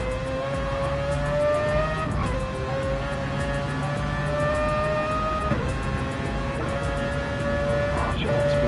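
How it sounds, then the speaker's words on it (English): A Mazda race car in Gran Turismo 7 rounds a hairpin on the Deep Forest circuit, its engine holding a high, steady whine whose pitch dips and recovers through the corner and gear changes, with no talk over it. "It's beautiful Mazda as he heads around the hairpin now."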